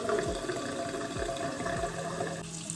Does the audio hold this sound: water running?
yes